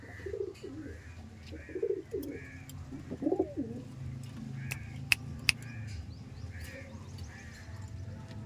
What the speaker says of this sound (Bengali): সব পায়রা দেখুন মস্তিতে